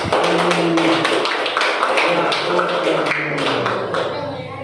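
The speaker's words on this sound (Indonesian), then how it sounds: "Tepuk tangan dulu untuk kelompok satu tadi ya." A classroom group clapping hands during a lesson, brisk uneven claps close by with voices talking over them throughout.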